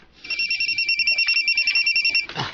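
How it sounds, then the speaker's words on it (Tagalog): A mobile phone rings with a fast, warbling electronic trill that pulses steadily for about two seconds, loud and close, before cutting off into a brief rustle. "Magtingin mo cellphone, day. Nawag ako."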